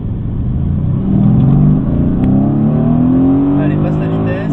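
A Mercedes-AMG GT S accelerates hard on a race track, its engine note climbing steadily in pitch through the revs, heard from inside the car with someone talking over it throughout.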